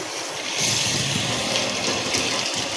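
A steady, full rush of water from a kitchen tap, gushing continuously and fairly loud with no talking.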